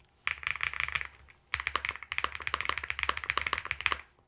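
Rapid keystrokes on a QK100 MK2 mechanical keyboard fitted with ABS and PBT keycaps, a dense run of crisp, chalky clacks with a low thocky undertone, pausing briefly near the middle before resuming at a steady pace.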